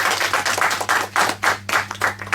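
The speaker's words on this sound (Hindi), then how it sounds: "एक बार जोरदार ताली हो जाए" Audience applause for a young contestant on a junior quiz show, rhythmic claps in fairly even bursts, close and clear, with a low steady hum underneath.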